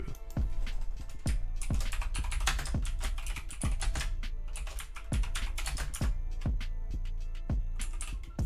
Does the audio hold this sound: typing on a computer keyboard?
yes